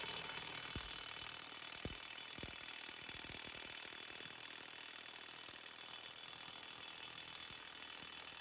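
A cordless impact wrench works on rusty old 32mm lug nuts, a dense mechanical rattle with a few sharper knocks early on, heard through a loud hissy wash of background noise.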